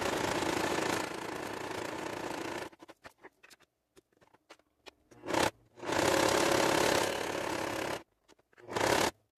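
An Elgin Genius sewing machine stitches a decorative stitch in three steady whirring runs, the longest at the start, separated by quiet pauses with scattered small clicks and taps.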